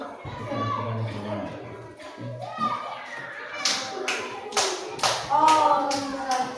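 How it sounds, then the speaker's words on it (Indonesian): Children in a classroom clap their hands after a group presentation, giving a run of sharp, loud claps in the second half of the clip after an adult's voice. "Oke, tepuk tangan."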